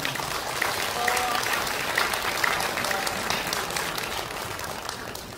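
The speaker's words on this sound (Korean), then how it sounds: "큰 박수 부탁드립니다" Sustained applause from a crowd, a dense steady clatter of many hands clapping throughout, with faint voices mixed underneath.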